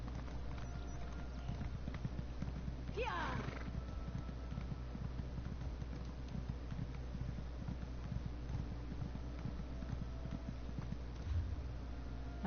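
Horse hooves clop in a steady rhythm from a galloping mount in an Elder Scrolls video game, quiet and continuous, with a brief whinny-like rising call near the start.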